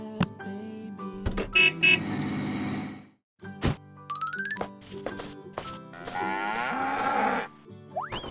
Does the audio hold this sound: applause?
no